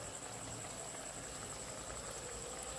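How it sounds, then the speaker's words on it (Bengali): Fish curry gravy bubbling at a full boil in a pan on a gas stove, a steady low hiss and simmer holding at an even, moderate level with no talking. "ঝোলটা একদম ফুটে উঠেছে"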